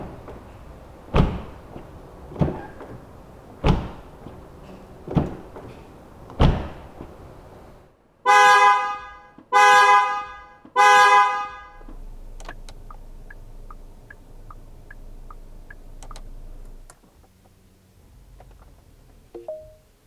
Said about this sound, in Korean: 자, 그럼 마칸이 들려주는 소리도 한번 확인을 해 보시죠.